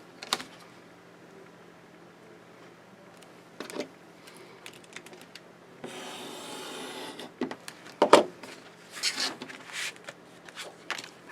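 Paper being trimmed for a decorative craft album page, quiet scraping and rubbing strokes with a longer sliding cut midway and scattered taps and clicks, close and soft, with no voices.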